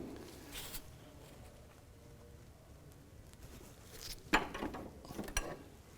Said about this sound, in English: With a 22mm wrench, we'll go ahead and tighten that down.